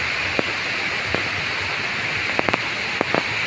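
Cambugahay Falls on Siquijor pours in a continuous hissing rush of falling water, steady and close, broken by a few sharp clicks and taps.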